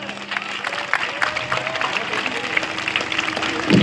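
A crowd claps to welcome an arriving guest at an inauguration by a legal services authority at a court in Madhubani. The applause is a dense, patchy patter mixed with voices and movement.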